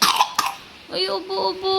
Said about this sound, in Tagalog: Uy, ubo!